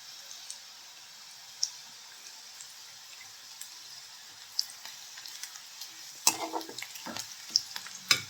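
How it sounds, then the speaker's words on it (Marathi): Onion and green chili frying in a pan, a soft steady sizzle with scattered pops and a few louder clatters of stirring toward the end, heard alone without talk. "कांदा थोडा लालसर व हिरवी मिरची थोडी तळल्या गेली पाहिजे."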